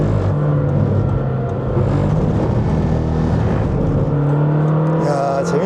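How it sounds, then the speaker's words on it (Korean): A Lamborghini Temerario on a race track holds a loud, steady high-revving engine note through a corner, the pitch swelling and shifting near the end as the throttle changes. "제가 일부러 코너에서 엑셀을 조금 깊이 밟아서 오버를 만들어 보고 있는 중인데요"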